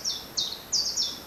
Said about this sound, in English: You might just hear that bird song.